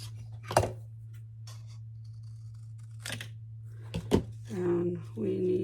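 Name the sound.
cutting paper for an ephemera box craft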